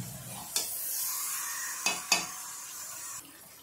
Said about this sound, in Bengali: এটা এবার আমি এখন কিছুক্ষণ ধরে ভালো করে কষাবো।